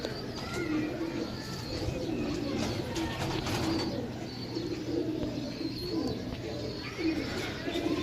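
Pigeons in a loft coo softly in repeated low throaty calls, with faint chirps and an occasional wing flutter around them.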